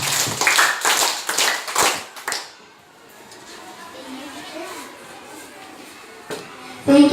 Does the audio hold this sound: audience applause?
yes